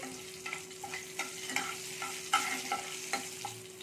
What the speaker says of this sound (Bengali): তেলটা গরম হয়ে গেছে একটু তেজপাতা দিয়ে দিলাম একটা শুকনো লঙ্কাকে ভেঙে দিয়ে দিচ্ছি আর একটু পাঁচফোড়ন দিলাম এটাকে আমি একটু ভেজে নিচ্ছি